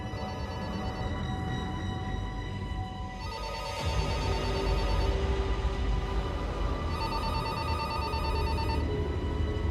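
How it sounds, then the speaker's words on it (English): A telephone rings steadily in a budget hotel room, its electronic bell repeating in even bursts with a short pause between them, fairly loud and close over a low background hum, with no one speaking. "I spent a lot of time waiting for the phone to ring"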